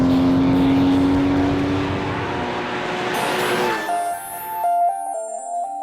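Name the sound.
Porsche Cayman GTS exhaust while driving on a track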